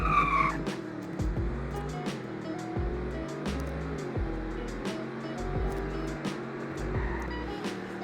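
A car accelerates hard from a standstill in a 0 to 100 run, its engine climbing through repeated gear shifts in a rhythmic rise-and-drop pattern, heard moderately from inside with no talk.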